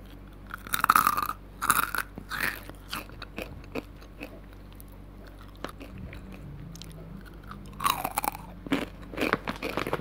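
Crunchy fried intestine being chewed up close, with loud, repeated crisp bites and crunches in an uneven rhythm, heard alone without speech.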